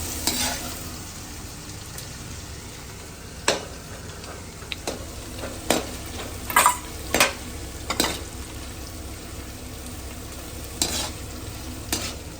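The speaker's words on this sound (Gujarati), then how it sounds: "મસ્ત મજાનું ફ્રાય થવા દેવાનું." Ginger-garlic paste and chillies fry in a pan with a steady low sizzle, broken by sharp stirring scrapes and clicks of a utensil against the pan at irregular intervals.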